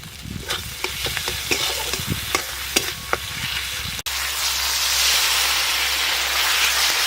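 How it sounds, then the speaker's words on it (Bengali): Spices, green and dried chilli paste, chopped tomato and salt fry in oil in a pan, stirred with scrapes and clacks, then burst into a loud, steady sizzle once the tomato goes in. "সমস্ত মশলা একটু ভাজা ভাজা হয়ে গেছে"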